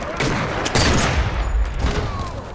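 Explosions of barrels in the VR sniper game Sniper Elite VR boom and crackle loudly and close, with a thick, sustained rumble of blasts and debris filling the whole moment.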